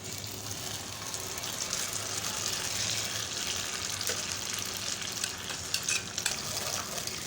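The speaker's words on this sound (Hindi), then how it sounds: "अब मैं इसमें ये अदरक लहसुन टमाटर की जो मैंने पेस्ट तैयार की है वो मैं इसमें डाल दूँगी।" Ginger, garlic and tomato paste sizzling and being stirred in an iron karahi, a steady close crackle of frying with scraping and clinking, no talk.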